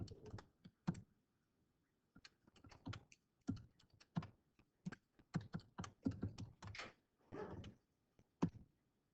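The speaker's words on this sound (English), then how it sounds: "you can type that all in your calculator once if you want" Calculator keys tapped in a classroom while working out a student's final grade, a quick irregular run of light plastic clicks in short bursts with pauses, close and fairly quiet with no talking.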